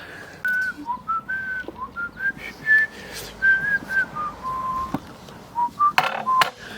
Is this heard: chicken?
no